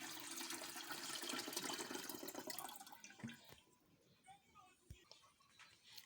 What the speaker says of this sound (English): I pour all of it inside the kettle.